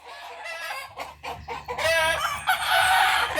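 A chicken, a fighting cock, squawks and clucks loudly nearby, building into frantic, harsh crowing-like cries.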